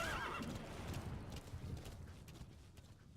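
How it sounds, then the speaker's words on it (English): Epona, the horse from a Zelda video game, gives a whinny at the start, followed by clip-clopping hooves and trailing game ambience, fairly loud throughout. "luckily, here we have a horse"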